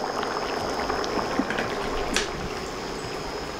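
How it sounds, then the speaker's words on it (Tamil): Dry mango fish curry simmering gently in a pan, a steady soft bubbling and fizzing with a few small pops, close and continuous with no talking. "மீன் போட்டாச்சுன்னா அதை டிஸ்டர்பே பண்ணக்கூடாது, சிம் பண்ணிவிட்டு வச்சுருங்க."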